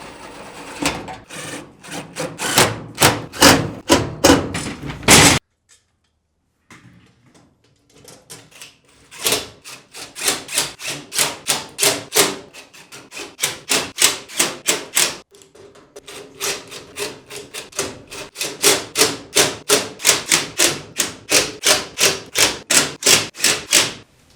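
A professional mobile tool cart rolls on locking wheels with steady rhythmic rattling and clunking, close up, broken by a brief silence before the rolling rattle resumes.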